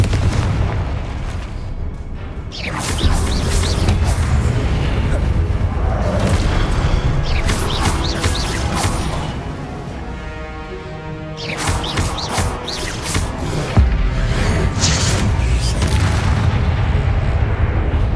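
Fiery Confringo blast spells burst repeatedly in Hogwarts Legacy combat, heavy booming explosions layered over continuous battle noise and music that stays loud throughout, with a brief lull partway before the blasts resume.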